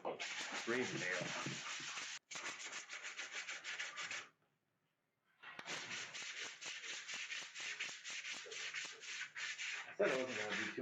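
Steady rasping of sandpaper rubbing over a wooden skateboard deck in long back-and-forth strokes, with a short pause in the middle and a brief voice near the end.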